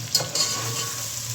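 Browning onions sizzle steadily in a pan for a mixed vegetable sabzi while a spoon stirs them, with a couple of scraping clinks near the start over the continuous close frying hiss.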